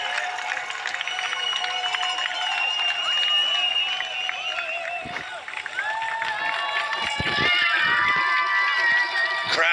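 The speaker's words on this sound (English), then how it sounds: "Crowds out in really good numbers." A large crowd of spectators lines the Berlin Marathon 2023 course, cheering, clapping and shouting steadily and loudly, with whistles and commentary voices mixed into the roar.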